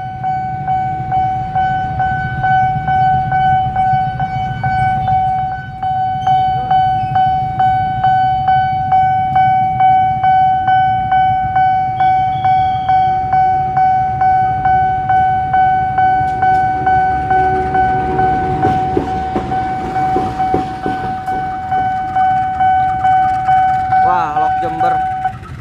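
Locomotives pass a busy railway level crossing in Jakarta, with a steady two-tone crossing bell ringing rhythmically over the rumbling wheels and traffic, and a horn sounding near the end.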